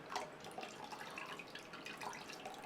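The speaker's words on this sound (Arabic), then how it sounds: "فضي عليهم لترين من المي البارده." Cold water poured over strained lemon juice in a bowl for Lebanese lemonade, a faint, steady trickling and splashing of liquid that continues throughout.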